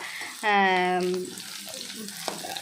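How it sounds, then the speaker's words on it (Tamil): Dried red chillies fry in oil with a soft, steady sizzle. A short, loud tonal hum rises over it near the start, and the frying continues quietly on its own. "அதையும் இந்த ஆயிலில் வந்து ஃப்ரை பண்ணிக்கலாம்"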